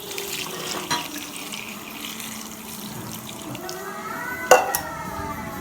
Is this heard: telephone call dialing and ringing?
no